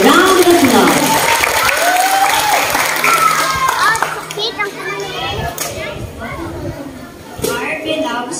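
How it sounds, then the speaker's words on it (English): Applause and cheering from an audience at an elementary school foundation day celebration, with children's voices and crowd chatter mixed through the clapping, which stays steady and fairly loud before thinning out. "Let's give her a round of applause."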